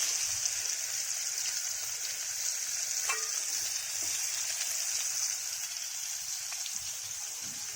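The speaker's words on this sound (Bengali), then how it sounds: "এবার কড়াইতে আমি পেঁয়াজগুলো দিয়ে দিচ্ছি। এই পেঁয়াজ কুচিগুলো কড়াইতে দিয়ে দিলাম।" Chopped onions fry in a wok with a constant crackling sizzle and scattered spatter pops, close and steady for nearly eight seconds, with no talking.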